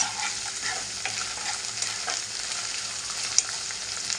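Ginger paste is stirred into a frying clam curry masala in the pan, giving a continuous soft sizzle with faint scraping throughout, fairly close and with no talking.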